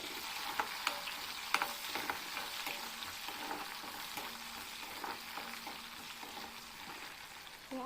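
Sliced onion and green chili sizzle steadily in hot oil for a fish curry, with repeated stirring scrapes and clicks of a spoon against the pan. The frying is close and continuous, with no talking.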